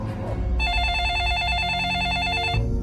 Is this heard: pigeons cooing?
no